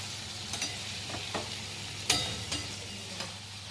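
Rooster meat sautés in a pan with a low, even sizzle, punctuated by several scraping spatula stirs, one noticeably sharper than the rest, and no talking.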